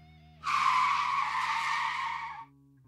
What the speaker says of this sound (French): Dans un crissement de pneus